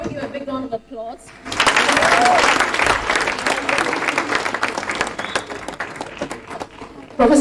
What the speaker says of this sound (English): Please, can we give a big round of applause?